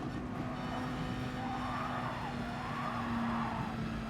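A race car in GT Sport runs steadily with a constant engine drone and a sustained tone, tires skidding and squealing faintly as the loose car slides, unbroken and without talk.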